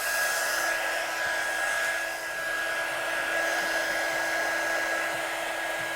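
An embossing heat tool blows hot air over stamped paper and card for a watercolour and stamping craft, a steady, loud, continuous whoosh with a faint electric whine, running alone throughout.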